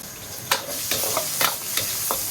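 Ginger and garlic frying in a little oil in a wok, with a steady low sizzle broken by several sharp scraping spatula strokes as they are stirred.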